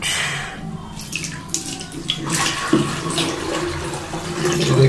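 Water pours into a torn plastic bottle set up for watering plants, a gurgling, splashing flow that rises and swells over a few seconds with no talking.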